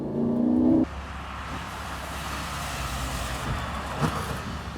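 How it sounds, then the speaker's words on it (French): A Lamborghini Gallardo accelerating in third gear, heard from inside as a steady, loud engine drone that continues after a brief higher whine at the start cuts off, close and without talking. "Et on accélère. Troisième."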